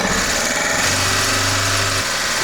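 Engine with a knocking fault that backfires into the carburetor runs loudly and steadily up close, a rough mechanical drone with a low humming tone rising in midway, no talking.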